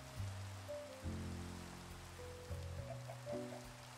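Rain falling in the Minecraft video game gives a faint, steady hiss, accompanied by soft tonal game sounds that rise and fall throughout.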